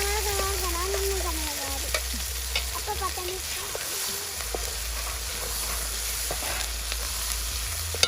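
Ground masala paste for a fish curry frying and sizzling in a pan, a steady close hiss with stirring scrapes throughout and faint background noise.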